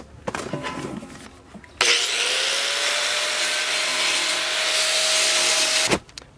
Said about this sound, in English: I'm ready to grind.